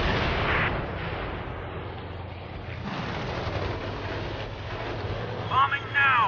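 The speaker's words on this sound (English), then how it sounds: "That's a bomb hit." A bomb strikes its target in Air Conflicts: Pacific Carriers, heard as a dull muffled blast over a steady droning aircraft engine, with a voice speaking over the action.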